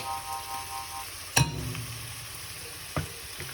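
Ginger and garlic hit a hot pan with a sharp burst of sizzling, a second smaller flare a bit later, then a low quiet frying hiss, with faint clinks.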